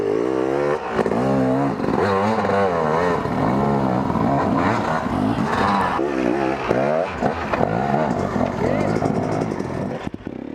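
Enduro motorcycle engine revving through a jump attempt, its rising and falling pitch sweeping repeatedly up and down, loud and close, with clattering from the bike over rough ground.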